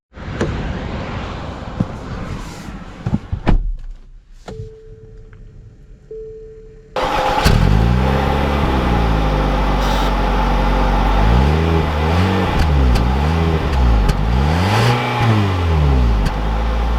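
A 2021 Nissan Rogue Platinum SUV fires up after some quiet interior clicks and movement, then settles into a loud steady engine hum that rises and falls repeatedly as it revs and accelerates.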